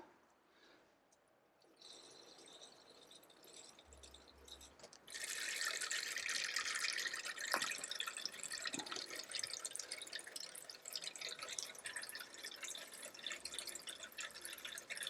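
A reverse osmosis water filter system refills after a pre-filter replacement, giving a faint hiss of water that swells into a steady, brighter rushing flow with scattered drips and gurgles, heard alone up close.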